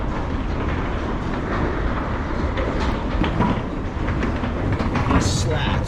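An old wooden escalator with wooden slats runs in a New York building, giving a continuous rattling, clattering mechanical rumble throughout at close range.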